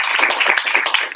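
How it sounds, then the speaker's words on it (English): Audience applause for parents at a startup bootcamp session on a university campus, a dense burst of many hands clapping, loud and close for about a second. "let's have a big round of applause for all the parents"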